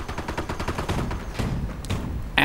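Rapid bursts of small-arms and machine-gun fire from panzer grenadiers in a World War II strategy video game, a dense crackling volley lasting a couple of seconds, with no talk.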